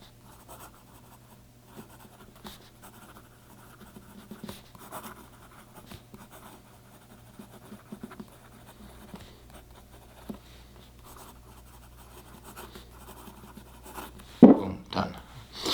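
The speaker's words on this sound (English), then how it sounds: "Let me write the sentence." A restored Moore fountain pen with a hooded nib writes on Rhodia paper, giving soft, scattered scratches of nib strokes across a quiet background, ending with a louder tap or knock.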